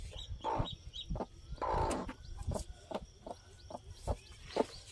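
A hen clucking in short repeated bursts, close by, with scattered scratchy rustling and faint background birds.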